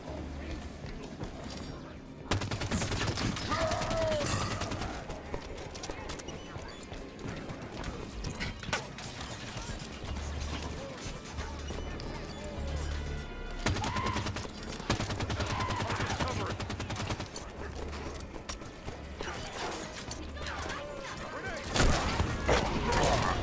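Shotgun fire and combat sounds in the Halo 5: Guardians campaign, with loud blasts and impacts at irregular intervals over a continuous game soundscape, with someone talking over it.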